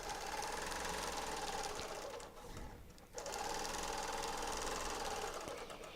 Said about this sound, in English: I love doing point-to-point quilting like this